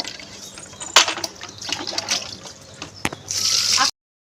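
Water poured onto potted garden plants, a close splashing and gurgling stream with a few sharp knocks, swelling into a louder hissing pour just before it cuts off.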